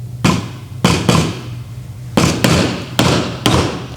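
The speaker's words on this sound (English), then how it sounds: "that's enough hammering" A hammer drives nails into a wooden board for a string art piece, sharp single strikes landing in uneven clusters of one to three blows, close and loud, with brief pauses between.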